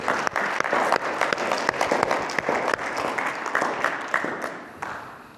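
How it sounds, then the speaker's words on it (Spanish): Church congregation claps together in praise, a lively spread of many hands with distinct sharp claps standing out as the applause carries on and starts to thin toward the end. "Vamos a dar otro aplauso al Señor."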